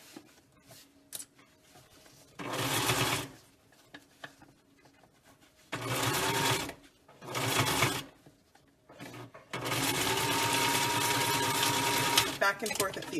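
A Singer sewing machine stitches a seam on a fabric mask in several bursts of rapid, buzzing whir, with short pauses and quiet talking between runs.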